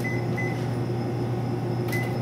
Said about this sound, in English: then microwave for 3 minutes.